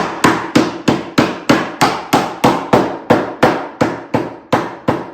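A small rubber mallet taps dovetail joints together on a new wooden beehive box, giving about fifteen sharp, evenly spaced knocks, close and loud, with no talk.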